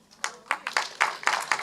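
A church congregation applauds its welcome team with a short burst of scattered, fairly quiet hand claps that grows denser toward the end, heard from within the hall.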